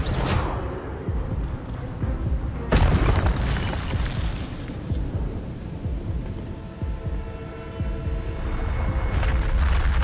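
Expelliarmus disarming spell effects in Hogwarts Legacy sound as booming magical bursts with sharp cracks that recur every few seconds over a continuous rumbling battle din.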